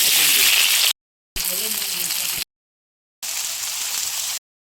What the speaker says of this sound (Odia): ସେଠି ପିଆଜ ପକାଇ ଭାଜିବା।